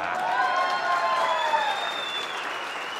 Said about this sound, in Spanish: Muchas gracias por su amable aplauso.